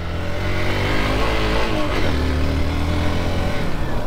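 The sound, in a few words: motorcycle engine riding on an uphill road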